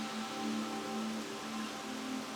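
Rain falls steadily at an animal sanctuary, a soft, even hiss of drops on surfaces, faint and continuous with no voices.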